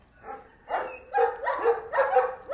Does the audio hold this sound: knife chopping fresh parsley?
no